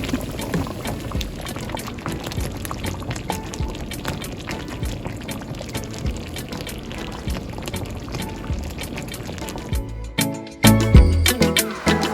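Smothered fried chicken simmering and cooking down in a pan, a steady bubbling, sizzling wash that runs throughout with no talk, ending in a few louder clatters and bumps near the end.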